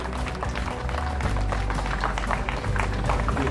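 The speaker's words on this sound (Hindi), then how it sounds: "तालियों की गड़गड़ाहट प्रस्तुत करें हमारे मुख्य अतिथि जी को" A crowd applauds to welcome chief guest O.P. Dhankar at a World Premier League event at WCTM, Gurgaon. The clapping is dense and steady throughout, with a low rumble underneath.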